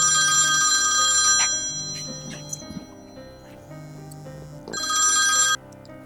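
A telephone ringtone plays in two bright electronic bursts separated by a quieter gap with faint clicks and rustling in between.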